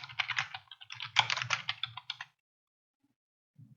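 Rapid typing on a computer keyboard for about two seconds, close and clear clicking keystrokes, followed by near silence with one last faint tap.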